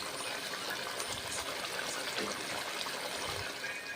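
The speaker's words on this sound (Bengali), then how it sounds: "আর একটু জল দিলাম, তারপর নেড়ে চেড়ে নিচ্ছি" Water pours steadily into a pan of pomfret fish curry, a continuous close gushing trickle with no talk over it.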